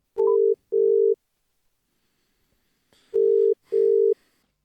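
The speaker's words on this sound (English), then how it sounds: "Excuse me while I just make a quick phone call." Telephone tones while placing a call: a quick keypad beep, then two paired bursts of a steady electronic ringing tone separated by a silent gap, loud and clean, with no talk.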